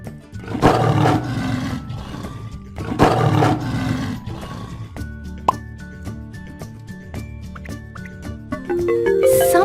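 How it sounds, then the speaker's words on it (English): A tiger gives two deep, loud, close roars in quick succession, followed by dripping, plopping water-like tones and tinkling sounds. "Tiger."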